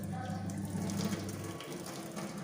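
Green-tinted water from cooking sweet potatoes, onion, tomato and ginger being poured out of a pot, a steady close splashing gush that tapers off after a second and a half.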